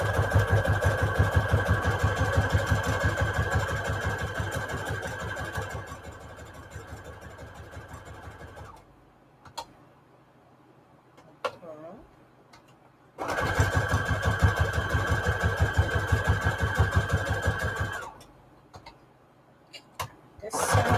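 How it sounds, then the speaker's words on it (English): Sewing machine running a zigzag stitch around the edges of a fabric tag stiffened with Peltex. Two sustained bursts of rapid mechanical whirring are heard, separated by a pause with faint handling clicks, and a third burst begins at the end. "I'm just gonna use a little zigzag stitch here around the edges."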